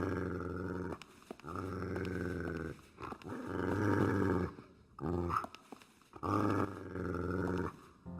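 Two dogs growl and snarl in the video game Fragile Dreams, rough, rumbling bursts in close succession separated by brief pauses, fairly near and alone without talk.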